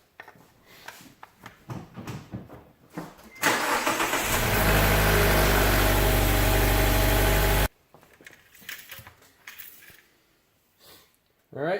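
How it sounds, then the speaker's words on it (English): A 2013–2018 Mazda 3 engine cranks and catches after an oil change, then holds a loud, steady idle for about four seconds before cutting off, with talk and handling noises before and after. "What you want to do is run your engine about 30 seconds."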